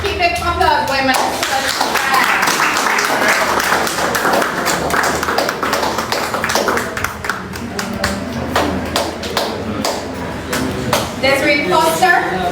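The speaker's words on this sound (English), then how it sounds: "Keep the applause going, man." Audience applause at a Jamaican public event as names are called out, dense continuous clapping sustained throughout, loud and close with a mix of sharp individual claps and broadband crowd noise.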